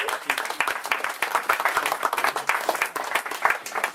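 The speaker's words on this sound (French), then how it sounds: "Nous avons parmi nous ce soir Fabrice, que je vous demande vraiment d'applaudir" A conference audience applauds a speaker with dense, sustained clapping from many hands, loud and even throughout, with no voices over it.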